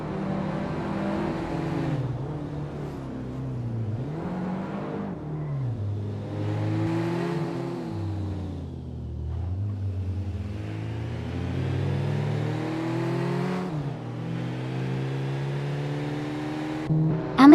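Race cars in a racing video game rev and accelerate continuously, with engine pitch rising and falling through repeated gear shifts and a steady loud roar throughout.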